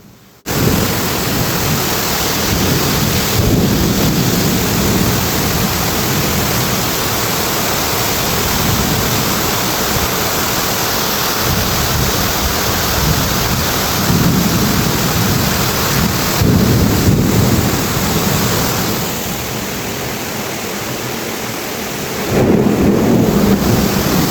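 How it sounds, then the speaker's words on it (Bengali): Loud, heavy rain roaring continuously in a thunderstorm at night, deep rumbling thunder rolling through, intensity swelling and easing at times, no voices. "একদম চারপাশে অন্ধকার হয়ে একদম ঝড় হচ্ছে"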